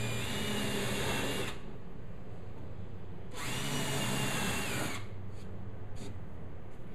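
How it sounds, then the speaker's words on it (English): A power drill with a small bit whines loudly in two long bursts drilling through wood, pausing between them, then gives a few short blips near the end, close up. "you take a drill with a small drill bit"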